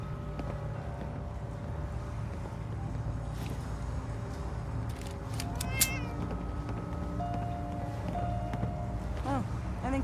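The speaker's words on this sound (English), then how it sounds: "Here, kitty." Ellington the cat in a foggy seaside video game gives a few short meows over a constant low ambient rumble, with faint creaks and scattered background sounds.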